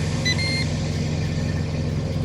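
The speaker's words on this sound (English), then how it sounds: "you guys heard the little beep that says I have food" A short electronic beep from a grill inside a truck cab, chirping briefly near the start before fading out, over a steady low engine-like hum and rumble that fills the rest of the moment.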